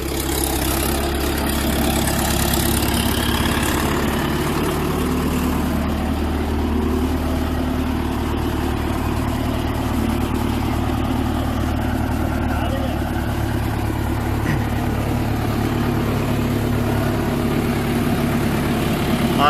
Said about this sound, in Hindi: 1500 RPM है लगभग ट्रैक्टर के।